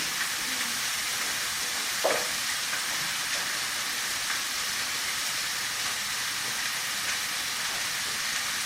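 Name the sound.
burger frying in butter on a barbecue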